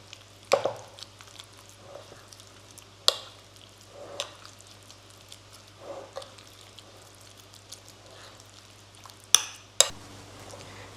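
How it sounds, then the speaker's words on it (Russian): A spoon stirs a sauce in a pan for a French-style pork dish with mushrooms and cheese, giving soft scraping swishes and a few sharper clinks against the pan, close and fairly quiet over a steady background hum. "Перемешиваем."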